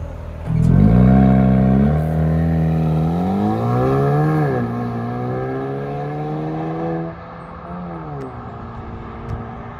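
A 2023 Haval H6 GT SUV engine revs up loudly and holds a steady drone, pitch rising and dipping a few times before easing to a quieter idle; no talking.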